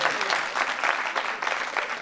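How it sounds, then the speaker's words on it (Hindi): Audience at a spiritual discourse claps together in a dense, steady burst of applause that fills the space and holds at an even level throughout. "यस, ताली बजाइए इसके लिए।"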